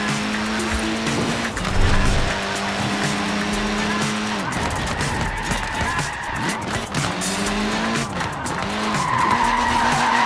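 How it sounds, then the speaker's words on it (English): A Mini in Forza Horizon 4 slides with repeated tire squeals that rise and fall over a loud engine drone, several skids in a row, close and sustained. "It's really not an easy car to slide, this."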